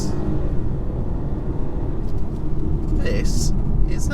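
A 2022 BMW 118i engine pulls hard after a downshift, a loud, dense, close rumble that swells steadily, with a voice talking over it.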